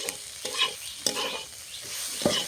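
Fish oil chorchori with onion greens fries in a pan, a steady close sizzle broken by a few sharp stirring scrapes and clinks of the spatula against the pan.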